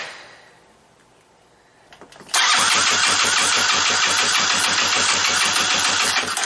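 A small minibike engine being started and run while its carburetor mixture is readjusted after trouble setting the idle screw: quiet hiss, a few cranking knocks, then the engine catches and runs loud and steady with a fast, even putter, close by.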